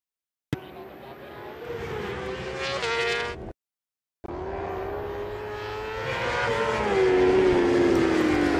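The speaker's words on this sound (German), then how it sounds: "Philipp Gengelbach, der weißen BMW, mit ein bisschen Luft auf die blaue Yamaha von Moritz Jenkner" Racing motorcycles, a BMW and a Yamaha, at the Schleizer Dreieck road circuit: loud, close high-revving engine wails passing by, cutting off abruptly, then another bike screaming past with rising and falling pitch.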